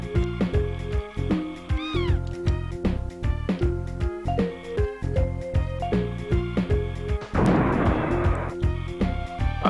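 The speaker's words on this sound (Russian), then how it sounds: "Да, звуки котят прям." Kittens meow repeatedly in the SNES game Frantic Flea, with synthesized mews recurring over looping chiptune music and a burst of noisy effect near the end.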